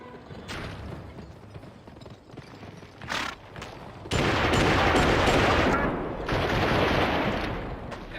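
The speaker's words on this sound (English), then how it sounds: "Using the rifle on horseback is way more satisfying than the shotgun" Rifle fire from horseback in the video game GUN: sharp, loud gunshots crack out over galloping hoofbeats, with dense, sustained shooting and hooves building through the second half.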